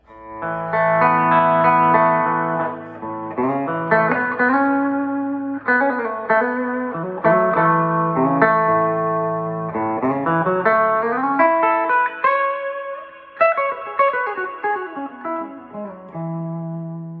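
An electric guitar plays melodic chords and arpeggios through the clean channel of an amp with added reverb, with sustained, ringing notes and a continuous phrase for several seconds.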